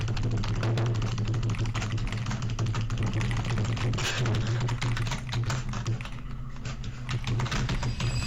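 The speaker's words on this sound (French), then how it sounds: "On va voir si j'arrive à taper avec ce clavier ou pas." Rapid, continuous clacking of a cheap budget computer keyboard during a typing test, keystrokes close and loud in a steady dense stream with no talking.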